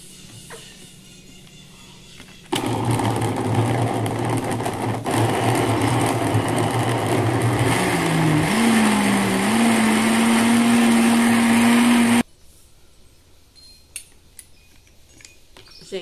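A kitchen blender whirs loudly and steadily for about ten seconds, blending fruit and vegetable juice, its motor pitch shifting partway through before it cuts off abruptly into quiet handling sounds.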